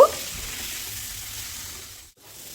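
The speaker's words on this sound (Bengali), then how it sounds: "এই সময় আমি যোগ করে দেব ভেজে রাখা আলু আর শিম সাথে কেটে রাখা টমেটো একই সঙ্গে যোগ করে দিচ্ছি আর সব কিছু একসঙ্গে আরও দু আড়াই মিনিট কষিয়ে নেব" Fried potatoes, flat beans and chopped tomatoes sauté together in spices, a steady low sizzle with a brief clink at the start and a short gap near the end, fairly quiet and with no voices.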